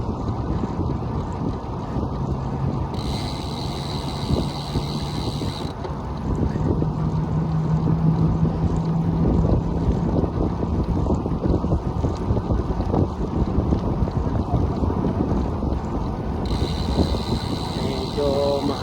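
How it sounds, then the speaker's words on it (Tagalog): Wind buffets the microphone of a bicycle riding along a bike lane in Doha, Qatar at night, a steady, loud, low rumble that continues throughout with no clear talk. "Medyo mahangin."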